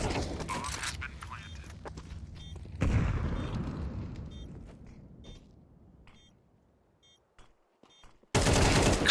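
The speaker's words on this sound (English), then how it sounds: "Just sitting next to it and spraying, sending bullets into that smoke." Rapid gunfire sprays into a smoke cloud during a Counter-Strike match, starting as a sustained loud burst, tapering off over several seconds and then erupting loudly again at the end, with faint clicks in between and no talk.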